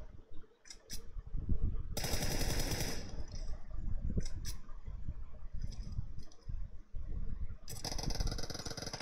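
Bursts of automatic gunfire from the battle royale game PUBG Mobile, loud and close, with two long sustained volleys and several short shots over a steady rumbling game background.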